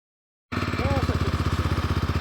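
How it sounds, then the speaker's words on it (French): A motorcycle engine, a new bike given as a surprise, starts up after a moment of silence and settles into a loud, close, steady idle with a rapid pulsing rhythm while a voice briefly speaks over it. "Voilà, on lui a payé une moto."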